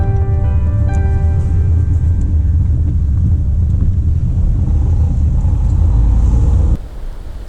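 A car drives slowly around a small roundabout at the end of a road, with a steady low engine rumble and wind buffeting the microphone throughout, cutting to quieter idle near the end.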